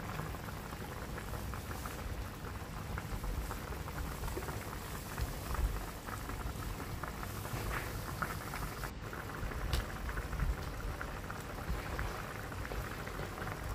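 A pot of sea fish braised with pineapple simmers steadily, a dense continuous bubbling with small pops throughout, close and moderately loud, with no voices.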